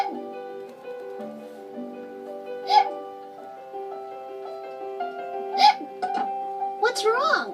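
A voiced cartoon bear cub hiccups three times at spaced intervals over soft sustained background music, the sound imitated by a character's voice.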